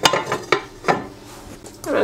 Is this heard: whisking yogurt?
yes